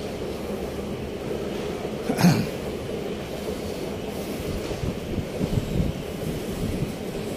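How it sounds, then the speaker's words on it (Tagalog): Wind blows steadily outdoors as a continuous broadband rumble, with one brief, louder gust around the two-second mark; no one speaks. "Sarap ang hangin dito ngayon."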